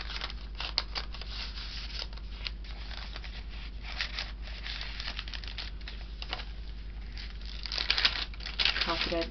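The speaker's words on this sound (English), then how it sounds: "a coffee dyed paper bag that I just have some ephemera in" Coffee-dyed paper bag holding printed ephemera in a hand-marbled journal, handled with soft, close crinkling and rustling that grows busier near the end.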